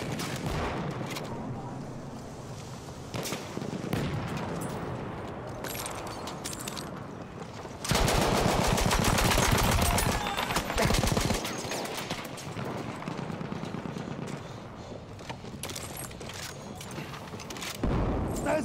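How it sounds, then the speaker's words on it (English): Machine gun fire in the Battlefield video game, heard as loud sustained automatic bursts mixed with other gunfire and booms, with a dense stretch of rapid fire in the middle and voices shouting now and then. "machine gun."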